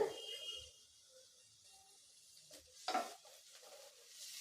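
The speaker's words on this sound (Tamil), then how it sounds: "இப்போ முட்டைக்கோஸ் சேர்த்து நல்லா வதக்கி விடுங்க" Soft sizzling and stirring of finely chopped cabbage in a pan, with faint utensil scrapes and a brief clatter near the end, fairly quiet.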